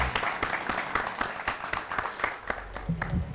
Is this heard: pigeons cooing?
no